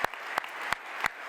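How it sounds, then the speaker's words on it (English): Audience applause at a Canadian Space Agency astronaut announcement, a soft steady patter of many hands clapping, with a few sharper, louder claps standing out at regular intervals. "Je vais vous donner une bonne main d'applaudissement."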